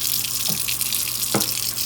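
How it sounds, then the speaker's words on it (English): Tap water runs steadily into a sink, a close, continuous rushing stream with a couple of faint knocks beneath it, no voices. "Then you're going to turn the water on."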